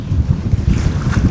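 Strong wind blows at the beach in the Shark Bay region, a loud, continuous buffeting roar that gusts unevenly against the microphone, with faint surf beneath and no voices.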